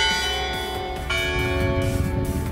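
Church bells at the Loreta in Prague, on Loretánské náměstí, ringing a steady melodic peal with long sustained overlapping tones, clear and fairly loud with no voices.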